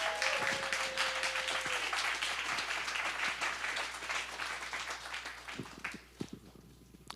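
An audience at a business launch competition finale gives the businesses a round of applause, a full, close clapping crowd that slowly thins toward the end, with a few scattered claps trailing off.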